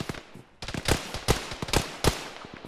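Scattered gunshots from several shooters in a military shooter game, cracking out in irregular bursts beyond a hill, moderately distant with sharp reports between quieter gaps.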